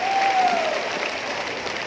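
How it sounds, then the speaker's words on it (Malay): Steady applause from a crowd at a Sabah Barisan Nasional campaign machinery launch, continuous and fairly loud for the whole stretch with no pauses. "Saudara Lu Yen Tung, tepukan untuk beliau."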